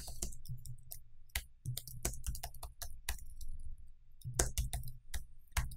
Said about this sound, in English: I'm really struggling with typing at the moment.